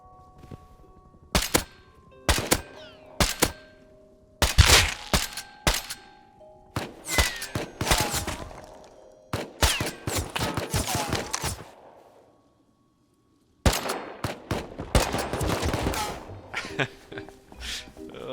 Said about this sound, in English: every time I go to do something they shoot me